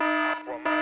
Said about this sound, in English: An alarm! Time to fight crime!